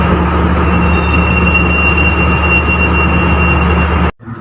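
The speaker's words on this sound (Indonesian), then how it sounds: "Kereta api Sancaka masuk dan berhenti di jalur 6 stasiun" A Sancaka train pulls into platform 6 at Surabaya Gubeng station and comes to a stop, its broad steady rumble of wheels and carriages loud and close, with a thin high whine above it, then cutting off abruptly near the end.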